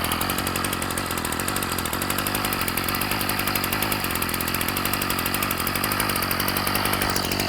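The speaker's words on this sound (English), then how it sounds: "you can just see how nice it idles, how nice it runs" A Ryobi 740r two-stroke engine idles steadily after winter storage, a loud, even buzzing drone that runs unbroken throughout with no talking.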